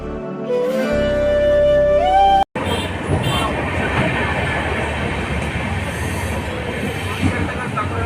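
Inside a passenger train heading toward Jorhat: a tonal, horn-like sound with a rising pitch sweep, cut by a brief dropout, then a steady loud broadband rumble of the moving carriage, wheels and rails, continuing to the end.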